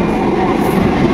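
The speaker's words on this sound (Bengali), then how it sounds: "ফাইনালি আমাদের ট্রেন চলে এসেছে" A train pulling into a station, loud close rumble of wheels and carriages rolling past in a dense, steady roar with no voices.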